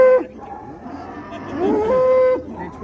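A young bull moos at a busy livestock market in Qarshi, its long tonal calls rising over a murmur of crowd noise and distant voices.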